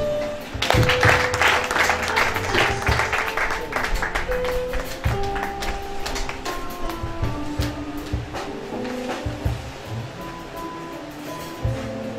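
A church congregation claps and cheers to acclaim Jesus in a dense, sustained wave of applause, with voices calling out over it and tonal background sounds, loud and close throughout.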